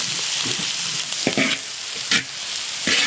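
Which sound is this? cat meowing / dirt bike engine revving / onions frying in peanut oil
onions frying in peanut oil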